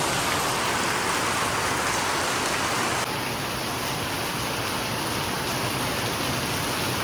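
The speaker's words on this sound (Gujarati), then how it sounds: "વરસાદ ચાલુ થઈ ગયો છે" Heavy rain drums on a tin roof as a dense, loud, unbroken hiss, easing slightly partway through but staying steady with no voices.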